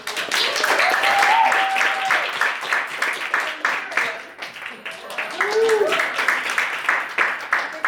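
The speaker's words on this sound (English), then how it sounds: "can we give a round of applause" Steady applause from an audience at a speech at Harvard, dense and sustained clapping throughout, with faint tonal sounds drifting underneath.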